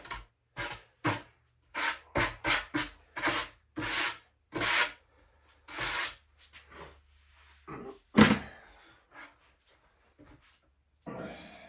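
Hand sanding the edges of a wooden gun box with an 80 grit pad, a series of short, close, rasping strokes in quick uneven rhythm, followed by a few scattered knocks and quieter scrapes.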